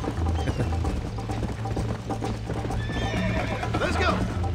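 In the video game Red Dead Redemption, a horse's hooves clip-clop in a rapid galloping rhythm, with a neighing whinny near the end and someone talking over it.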